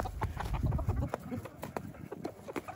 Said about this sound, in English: We've been feeding the chicks and chickens extra protein.